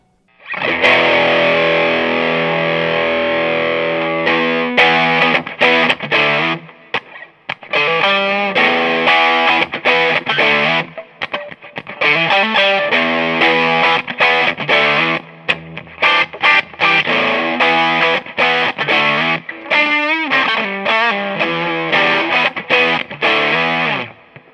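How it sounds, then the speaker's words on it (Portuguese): An electric guitar runs through an overdrive pedal with a distinctive voice, giving a thick, gritty, sustained tone with chords and lead lines played continuously and loudly for over twenty seconds, with no talking. "por ser um overdrive com um voice um pouco diferente"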